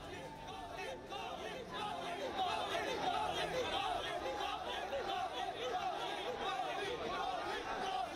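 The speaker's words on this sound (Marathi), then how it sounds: "दुसरीकडे चाहत्यांचा जयघोष सुरू आहे" Crowd of Team India fans outside a hotel in Mumbai, a steady dense hubbub of chatter and voices cheering, fairly distant and continuous with no single clear chant.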